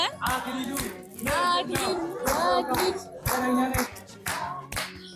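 A festive Christmas Eve gift programme audience claps in sharp, rhythmic bursts while voices sing and call out together, with claps and voices alternating in lively waves.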